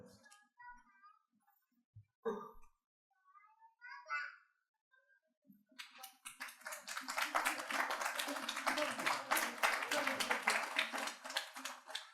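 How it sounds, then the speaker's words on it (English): An award ceremony audience breaks into sustained applause after a few seconds of quiet, scattered speech, the clapping building and holding steady at moderate volume. "So again, with a huge round of applause"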